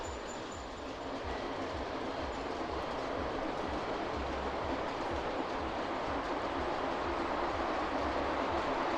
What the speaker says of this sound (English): I'll just catch this loco coming back round.